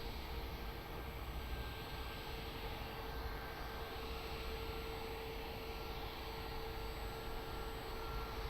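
Airliner on approach to runway 02 at Lisbon Airport, a steady, faint, distant engine drone lasting the whole stretch with no break.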